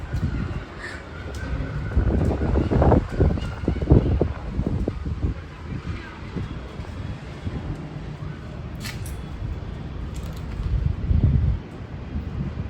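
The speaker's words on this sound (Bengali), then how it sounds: "আর বিকেলে আজকে দেখছি এরকমভাবে ঝড় দিচ্ছে" An afternoon storm wind gusting through Bangalore, a continuous broadband rush that swells around the third and eleventh seconds, with faint bird calls scattered above it.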